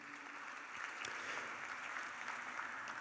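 Audience applause at a university graduation ceremony, a steady wash of many hands clapping, fairly distant and even throughout with no voices over it.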